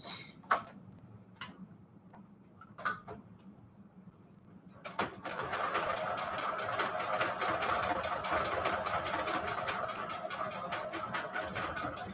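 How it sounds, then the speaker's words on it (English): Soft clicking and ticking, then a sewing machine starts up and runs steadily with a fast, even mechanical whir until the end. "The sewing machine pretty much goes straight on its own."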